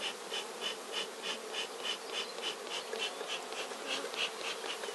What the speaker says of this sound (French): si on est impatient, on peut aussi secouer les abeilles qui restent dans le nourrisseur